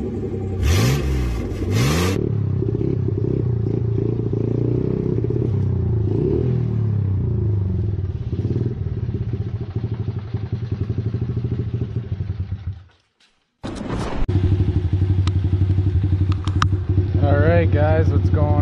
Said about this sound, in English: Gonna go take the SSR for a little ride.